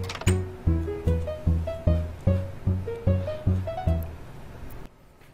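Minecraft note block doorbell playing a tune, a sequence of about a dozen plucked, bell-like notes in a steady rhythm at varied pitches, clear and alone.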